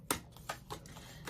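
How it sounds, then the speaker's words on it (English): Tarot cards are shuffled by hand in a few quick riffling bursts, close and fairly quiet, each a short papery flutter with brief pauses between. "then we're going to shuffle again"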